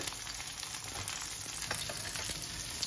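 Mashed garlic sizzles in a pan alongside frying sea bream, a steady bright crackle with scattered small pops and a few stirring scrapes, close and alone.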